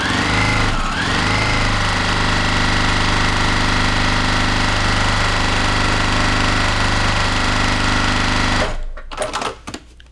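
A sewing machine runs steadily for about nine seconds, stitching quilt block pieces for a charity quilt, then stops abruptly, leaving a few small handling clatters.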